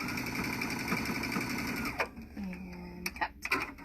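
A sewing machine stitching fabric bowl cozies runs in a steady close whirring hum for about two seconds, then stops, followed by a few small mechanical clicks and handling noises.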